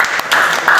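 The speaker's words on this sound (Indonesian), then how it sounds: "Oke, tepuk tangan." A classroom of students clapping hands together, a short burst of applause with brief gaps, moderately loud with no talk over it.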